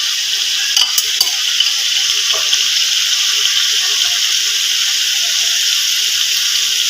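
Water goes into a pot of biryani cooking with ground spices and pickle, making a steady, close hiss and sizzle that runs evenly throughout, with a couple of small clinks near the start.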